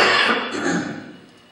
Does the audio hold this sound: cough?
yes